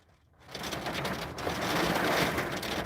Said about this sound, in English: It's starting to rain here if y'all hear it.